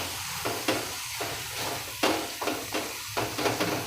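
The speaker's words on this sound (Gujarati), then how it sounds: "હવે આમાં આપણે 50 ગ્રામ જેટલો માવો નાખશું." Khoya (mava) crumbled into chilli halwa sizzles steadily in a pan, with repeated stirring scrapes every half second or so, close and moderately loud, with no voices.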